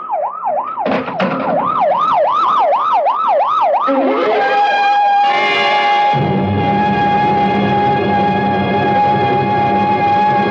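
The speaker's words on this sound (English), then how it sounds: "better get that ambulance out here fast" Ambulance siren in a radio drama, a loud wailing tone rising and falling rapidly, then shifting into a steady held blare as the vehicle arrives close, no talking.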